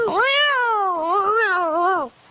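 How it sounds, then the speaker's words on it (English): A single drawn-out cat meow, loud and close, rising and falling in pitch for about two seconds before cutting off, heard alone in a children's birthday party magic act where a cat appears from a hat. "No, that's a cat."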